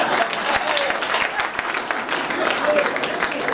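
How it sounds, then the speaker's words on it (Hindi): An audience claps and applauds at a Hindi poetry gathering, a Holi sammelan mushaira, with dense continuous clapping filling the room throughout, close and loud, while voices carry faintly underneath. "ईमानदार तालियां बजाएं तो बाहर लाखों बेईमानों को पता चल जाए"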